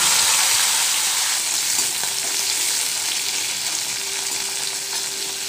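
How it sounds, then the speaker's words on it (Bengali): Okra fries in an old kadai with a steady, continuous sizzle, close and even throughout, with occasional light stirring and no talking. "ঢ্যাঁড়সগুলোকে একটু ভেজে নিতে হবে।"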